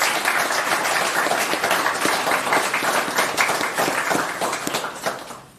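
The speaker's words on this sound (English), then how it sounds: "I want to give them a big round of applause" Loud, sustained applause from the crowd at a hotel ribbon-cutting ceremony honors hotel associates with dense clapping throughout, tapering off at the very end.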